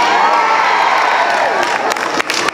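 A concert audience roars with cheering and shouts, a dense, loud wall of crowd noise that swells and then breaks into scattered claps and whoops near the end.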